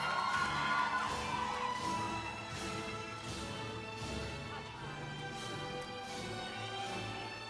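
A graduation ceremony audience cheers for a graduate, with whoops, shouts and high excited voices rising loudest at the start, then a sustained rowdy crowd roar that fades a little and holds.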